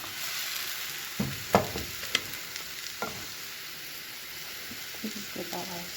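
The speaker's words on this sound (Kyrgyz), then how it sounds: "1 чөмүчкө алабыз дагы. Сковородканын ортосуна куябыз." Pancake batter ladled into the middle of a hot frying pan, a steady hiss of sizzling with a few short scraping and tapping sounds as it spreads, no one speaking.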